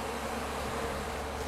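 Honeybees from a beekeeper's hives being readied for seasonal migration buzz in a steady, dense drone that holds at an even level throughout, with no voices.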